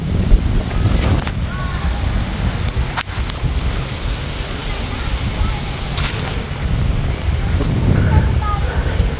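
Steady, loud outdoor wind buffets the microphone throughout in a wide open natural setting, with gusty bursts now and then.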